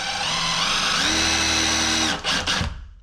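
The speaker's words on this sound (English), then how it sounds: "we're going to be drilling our holes right here" An electric drill whirs loudly and steadily, pitch rising as it bites while drilling holes to mount roller blinds, then stops with a couple of short bursts at the end.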